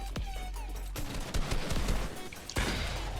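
Gunfire from a video game battle sounds as rapid bursts and scattered shots with sharp cracks, loud and dense, and a final sharp report near the end.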